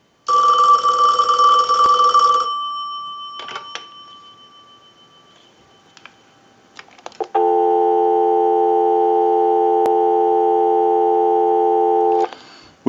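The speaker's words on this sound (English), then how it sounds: "we'll give you some dial tone" After one last burst of a Western Electric 500 telephone's bell and some handset clicks, a steady, loud telephone dial tone hums for about five seconds before cutting off, with no voices.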